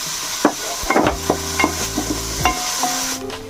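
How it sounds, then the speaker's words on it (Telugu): Chopped onions fry in a pan for a fish curry, giving a soft sizzle under intermittent scraping and clinking as a spoon stirs them, close and fairly loud. "ఇప్పుడు కట్ చేసి పెట్టుకున్న ఆనియన్ ముక్కలు వేయాలి. గోల్డెన్ బ్రౌనిష్ కలర్ వచ్చే వరకు వేయించుకోవాలి."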